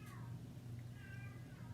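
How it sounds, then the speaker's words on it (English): A pet cat meows twice indoors, faint and somewhat distant, over a steady low hum, with short tonal cries near the start and again toward the end. "Oh, that's our cat again."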